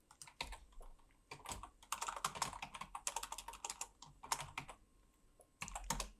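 Rapid computer keyboard typing in irregular bursts with short pauses, close and clear with no talking, as bone names are entered while rigging a low-poly character in Blender.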